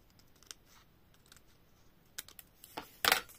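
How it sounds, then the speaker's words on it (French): Scissors cutting paper card for a scrapbooking project: faint snips and light paper rustles building to a couple of sharper cuts near the end, close and quiet. "On va finir au ciseau."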